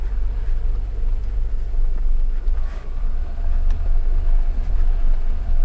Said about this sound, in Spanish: con la reductora prácticamente puedes bajar esto sin problema, te va frenando él solo el coche